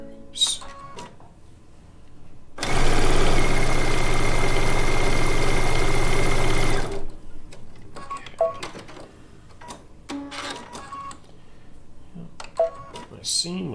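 A sewing machine running a steady burst of stitching along a quilt top seam for several seconds, close and loud, with someone talking and small handling clicks before and after.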